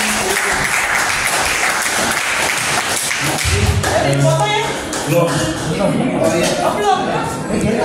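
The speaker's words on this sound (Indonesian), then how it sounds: "Sekali lagi Bapak Ibu memberi aplaus kepada tim." An audience applauds a team at an event, a dense, loud spread of clapping that fills the whole stretch while voices carry on talking beneath it.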